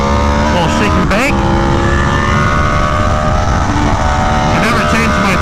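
Aprilia Tuono V4 1100 Factory motorcycles lapping Buttonwillow Raceway, a loud, close, continuous engine howl with shifting pitch as the bikes rev, shift and pass in a group, with wind rush throughout.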